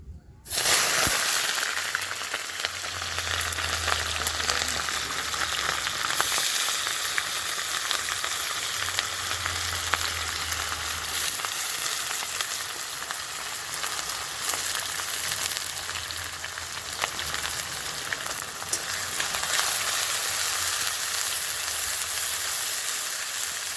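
Chopped onion sizzles and fries in hot oil with bay leaf and dried chilli, a steady close hiss punctuated by occasional stirring scrapes.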